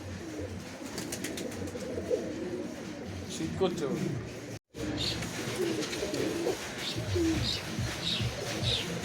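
A flock of Pakistani beat Kamagar pigeons coos continuously nearby in overlapping low calls, with someone talking briefly over them and a short dropout midway.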